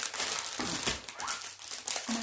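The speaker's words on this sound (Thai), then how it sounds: "เดี๋ยวขยำนิดนึงนะคะ" A plastic package being crumpled and squeezed by hand gives a dense, close crinkling and crackling that runs steadily for about two seconds with no talk.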